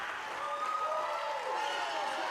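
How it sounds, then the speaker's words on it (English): Swim team teammates cheer a swimmer toward the finish at a girls' high school meet in an indoor pool, a steady, echoing wash of crowd noise and clapping with a few shrill whistles rising over it. "Her team cheering her to the finish."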